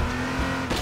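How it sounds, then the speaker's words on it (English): A police car's engine in the battle royale video game H1Z1 drones steadily and loudly through a brief burst, rising in pitch and roughening toward the end as it accelerates. "I think the police car is the fastest car you can get."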